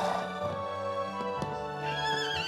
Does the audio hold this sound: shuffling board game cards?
no